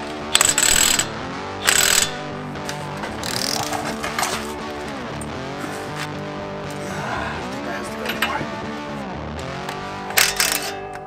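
A socket ratchet clicks rapidly while tightening suspension bolts on a Chevy Colorado ZR2 with Kings shocks. Several bursts of close, loud ratcheting are separated by quieter pauses, and a voice can be heard talking underneath.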